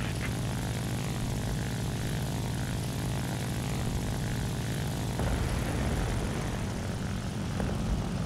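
Fw-190 propeller fighter engine in War Thunder drones steadily and loudly throughout, a continuous near throbbing roar with no talk.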